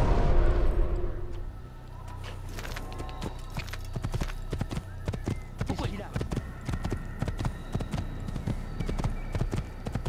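A horse gallops in Assassin's Creed, a quick continuous patter of hoofbeats over a game soundscape, with a heavy rumble at the start and a voice speaking in French over it.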